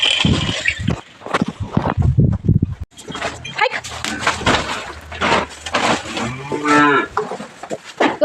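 Cows that pushed through the gate into a cattle shed moo loudly and close by, a long drawn-out low call rising near the end, amid shuffling, knocking and rustling in the shed.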